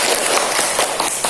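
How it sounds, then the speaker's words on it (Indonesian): Classroom of students clapping for a classmate, a dense steady patter of many hands filling the room without pause. "tepuk tangan untuk Bunga."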